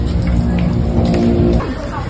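Heavy rain pours in a steady, dense hiss with a low rumble, set in a school short drama, with a slight easing toward the end.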